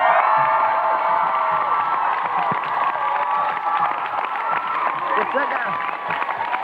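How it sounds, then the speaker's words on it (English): A live studio audience on a morning children's TV show claps and cheers, with excited children's shouts and whoops mixed into the dense, sustained crowd noise alongside music. "Give them a big round of applause"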